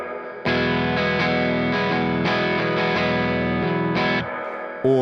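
A distorted, effected synth chord plays with a swelling, pumping reverb tail that rises and ducks rhythmically; no voices.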